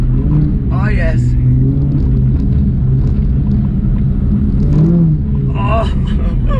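A Porsche GT3 RS engine roars loud and close as the car is drifted, a sustained rumbling drone with swelling revs and brief higher surges, while someone talks excitedly over it.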